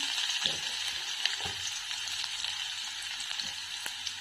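Chopped onion frying in tempering oil with mustard seeds, green chilli, coriander and curry leaves for gunta ponganalu, giving a continuous close hiss and sizzle with occasional soft pops and stirring, no talk.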